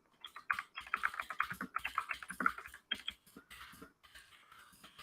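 Rapid close typing on a computer keyboard, bursts of crisp keystrokes in uneven runs with brief pauses, fading softer toward the end.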